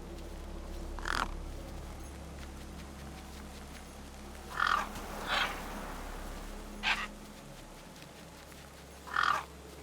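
Crows caw near a corpse in the video game Beyond a Steel Sky, with four or five separate raspy calls spaced across a steady low ambient hum, moderately distant and not especially loud.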